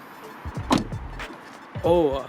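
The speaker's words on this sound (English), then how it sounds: "when you close the door, the glass kind of rattles" Door of a Volkswagen CC closing with a dull thump and a brief rattle of its window glass, close up, with a voice speaking around it.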